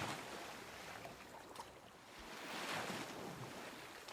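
Ocean water washes and surges in a steady broadband rush, swelling gently and easing back, with wind noise and no voices.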